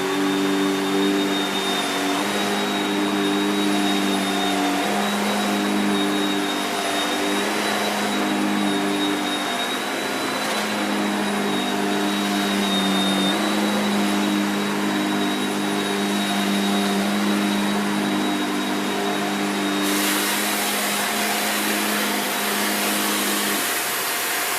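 Shark Powered Liftaway NV681UKT vacuum cleaner running continuously, a steady loud motor whine with tonal hum and airflow rush, shifting slightly near the end.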